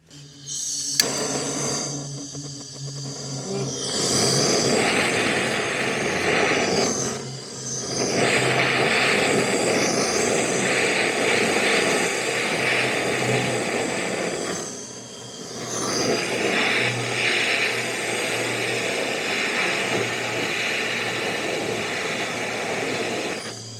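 A heat gun blows near a motorcycle fuel tank, a loud steady rushing roar that runs for long stretches, dips briefly twice and resumes, with no talking.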